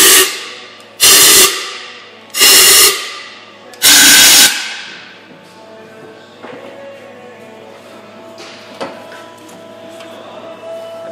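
Compressed air blasted in three loud hissing bursts, about a second each, to clean the intake ports of a Ford 3.5L DOHC engine, followed by quieter clinks and handling sounds.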